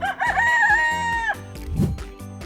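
A rooster crows once, loud and near, a long strained call that breaks off abruptly, followed by quiet background sounds.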